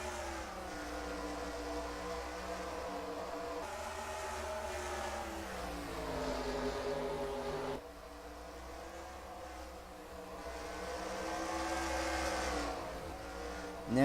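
Race cars roar around the dirt track at Eldora in a racing video game, a continuous engine drone whose pitch climbs and falls as the field accelerates, with no talking.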